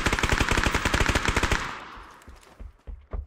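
An MP9 submachine gun fires a rapid, loud burst of about a dozen and a half shots in the video game PUBG, then the shooting stops and a few quieter thuds and footsteps follow.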